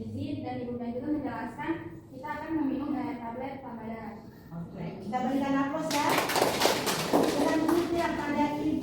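Applause from an audience at a health education talk bursts out partway through and carries on as a dense patter, with a voice continuing over it.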